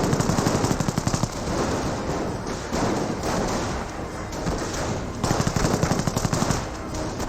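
Machine gun fire from a Company of Heroes battle in a trench and hard-point fight, a dense, continuous rattle of rapid bursts with heavier rhythmic stretches at the start and end, loud and close.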